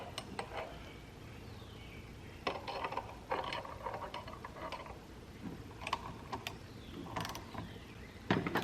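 Puller being tightened to split Norton Commando engine cases, giving irregular metallic ratcheting clicks and creaks with short bursts of tool noise, close up, no talk.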